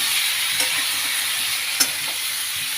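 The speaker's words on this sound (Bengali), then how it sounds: "এই যে নুন হলুদ দিয়ে একটু কড়াই মাখিয়ে নিচ্ছি" Mango pieces coated with salt and turmeric stirred in a hot wok for a Bengali mango pickle, a steady loud sizzle up close, with a couple of sharp scrape knocks from the spatula.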